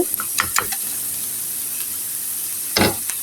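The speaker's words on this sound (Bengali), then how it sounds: "এখানে রসুন পেঁয়াজ আমি ভালো করে ব্রাউন করে ভেজে নিচ্ছি" Garlic and onion browning in hot oil, with a steady bright sizzle and a few scraping stirs near the start and again near the end.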